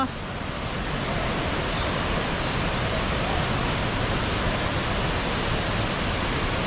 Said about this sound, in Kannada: ಅದ್ಭುತ ರಮಣೀಯವಾದ ಜಲಪಾತ